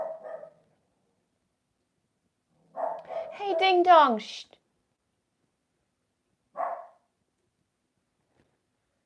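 A pet dog indoors gives a few short bark bursts with long silent gaps between them. A person speaks briefly and hushes it.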